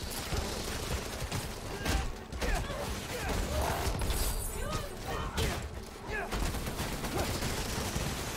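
Dense gunfire rattles through combat in Marvel's Spider-Man: Miles Morales, with rapid overlapping shots and mechanical clatter running almost continuously at fairly steady loudness.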